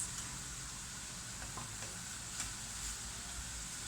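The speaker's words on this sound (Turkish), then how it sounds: "Attığınız gibi yağ bir şeyler kabarmaya başlıyor." Faint, steady sizzle of yeast-free pişi dough puffing up in hot frying oil, a quiet continuous crackle with a few soft pops.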